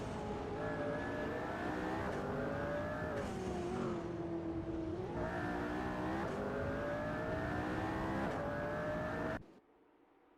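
Hypercars, including a McLaren, race around the Spa circuit in a video game, their engines holding a loud, steady high-pitched whine with rising and falling pitch as gears shift, before cutting off abruptly near the end.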